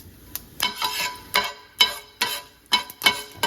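Ingredients fry in a pan until golden, with a crackling sizzle broken up by repeated scraping stirs, several sharp bursts spaced across the clip, close and fairly quiet.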